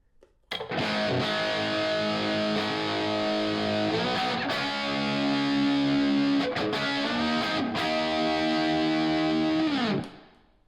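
Electric guitar played through a parallel echo effect alone, sustained distorted chords ringing loud and steady with repeating tails, changing chord several times before cutting off near the end.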